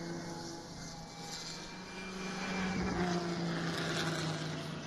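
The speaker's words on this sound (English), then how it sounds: "There goes that Dodge powered Can-Am machine, and you can hear the difference in the sound of the engine" A Dodge-powered Can-Am race car's engine at a speed festival passes by, a steady mid-distance drone that swells toward the middle and then holds, with a faint tonal whine riding over broad rumble.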